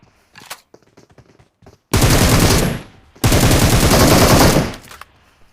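Automatic gunfire in the video game PUBG: two long, loud sustained bursts of rapid shots separated by a short pause, preceded by scattered faint clicks and shuffling.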